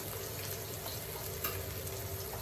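Sardines frying in hot oil in a pan, Kerala style, producing a dense, even sizzle that stays steady and close without talk.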